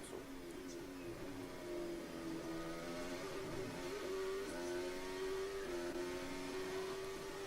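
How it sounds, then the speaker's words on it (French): A McLaren Formula 1 car with a Mercedes engine revs during a practice session at the Imola Grand Prix, a distant, steady, high-pitched whine that climbs and dips as the engine speed changes, with no talk over it. "On la sent sautiller sur les bosses et le moteur monter en révolution."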